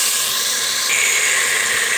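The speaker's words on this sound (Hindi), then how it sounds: "अब डालेंगे इसमें टमाटर का पेस्ट। अच्छे तरीके से भून लेंगे इसको।" Tomato paste hits browned ginger and garlic in a hot pan and gives off a loud, constant close hiss, with no voices over it.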